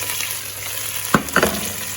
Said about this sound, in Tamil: எல்லாத்தையும் போட்டுட்டு வடிவாக கிளறுவோம்